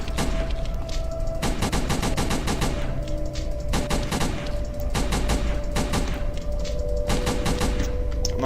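Rapid bursts of automatic gunfire from the zombie shooter game Dead Strike, several loud clustered volleys separated by short pauses, with no talking.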